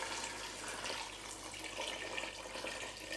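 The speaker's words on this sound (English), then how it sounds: "now that the vegetables have softened a bit, I'm gonna add some water. Enough to cover all my veggies." Water pours steadily into a cooking pot over softened sautéed vegetables, a continuous splashing rush that stays moderately loud from start to finish and has no voices over it.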